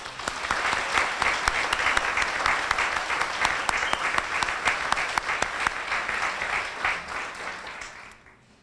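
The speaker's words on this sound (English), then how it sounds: "You may now applaud." Audience applause at a Daughters of the American Revolution Medal of Honor ceremony, a sustained round of clapping from a seated crowd that holds steady for most of the stretch and then tapers off at the end.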